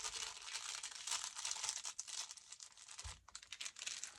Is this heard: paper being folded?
yes